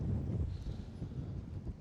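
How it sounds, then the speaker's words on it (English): Strong wind gusting at a small seaside harbor in Torekov, Skåne, rumbling low and buffeting the microphone, with no other clear sounds. "it's just a shame that it's got so bloody windy now"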